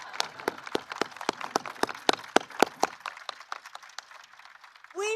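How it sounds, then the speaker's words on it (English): Applause for the Teachers of the Year at a White House event, crisp, scattered claps from a small number of people that thin out and fade before a voice begins at the end. "I'm going to clap for you."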